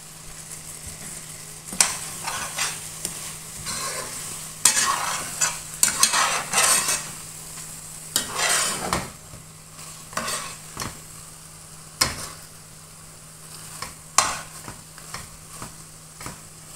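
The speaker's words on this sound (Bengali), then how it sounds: "রেডি হয়ে গেল আমার মাছের মাথা ভুনে, একদম ঝরঝরা।" A fish head is stir-fried dry in a pan with lemon juice. Repeated scraping and clattering stirring strokes sound at an irregular pace over a soft, continuous sizzle.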